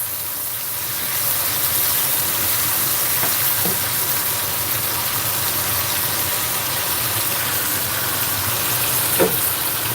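Pork tenderloin sears in a hot pan, a loud, steady broadband sizzle that swells after the first second and holds evenly, with a couple of faint clicks and no talking.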